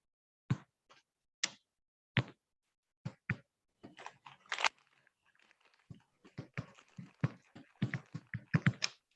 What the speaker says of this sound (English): I'm hearing some people typing.